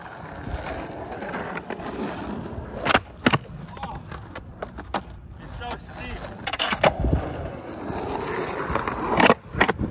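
Skateboard wheels roll and clack as the skater warms up with wall rides, rough rumbling with several sharp thuds and slaps, under voices and background noise.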